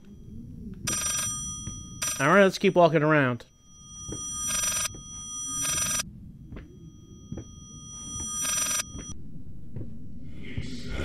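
A telephone rings in short repeated bursts inside the horror game Layers of Fear, with someone speaking briefly between the rings.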